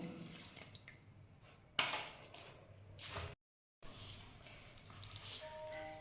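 Boiled milk cooled to room temperature being poured and slowly mixed into patishapta batter in a bowl, with soft scraping and liquid sloshing, one sharp utensil clink, and a brief dropout, close and fairly quiet.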